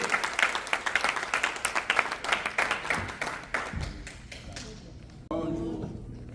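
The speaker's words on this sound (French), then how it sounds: "Quand même applaudissez plus fort pour l'encourager." An audience at a school event clapping in a steady, rhythmic beat to encourage someone stepping forward, fairly close and loud, thinning out after about four seconds into a quieter room with a voice.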